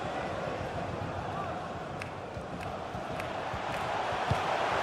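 A football stadium crowd at Crystal Palace vs Arsenal roars and urges on a player. The broad, distant swell builds slightly toward the end while a commentator talks over it.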